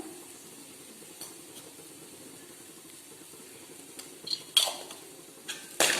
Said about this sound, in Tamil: இதை நல்லா கிளறி விட்டுருங்க மிளகுத்தூளை.